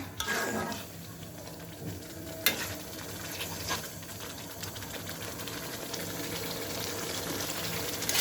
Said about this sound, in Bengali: মশলাটা পুড়ে যেতেছে তাই একটু পানি দিয়ে নিলাম